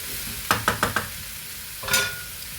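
Grated coconut added to a frying egg masala curry, stirred with a few quick scraping strokes followed by a soft sizzle, close and quiet with no talking.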